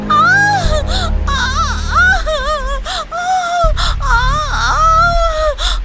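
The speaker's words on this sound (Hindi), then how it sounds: "माधवी की दर्द भरी चीखें और रोने की आवाज कपिला सुनती है" Cartoon woman screaming and crying in pain in a Hindi horror animation, loud wavering wails and sobbing cries that rise and fall in long drawn-out bursts with brief gasping breaks between them.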